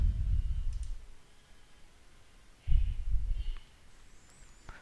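A computer mouse clicks while a .NET 7 Web API project is created, giving a few faint, sharp clicks spaced apart over low background rumble.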